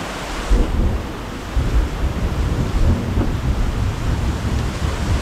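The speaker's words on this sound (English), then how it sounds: "Testing a storm is really, really close thunder lightning." Very close thunder from a storm on a remote island, a loud continuous low rumble with rolling bursts and a rain-like wash throughout, no voices.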